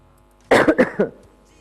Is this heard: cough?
yes